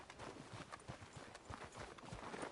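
A horse's hooves beat in a quick, uneven clip-clop in the video game Red Dead Redemption 2, soft and somewhat distant, with no voice over them.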